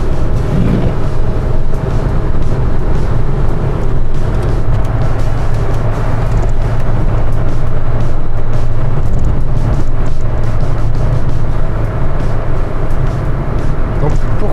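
Inside a Rover 216 GTI coupé on the move, a steady low engine and road rumble fills the cabin with constant loud wind and tyre noise. Someone talks over the drone throughout.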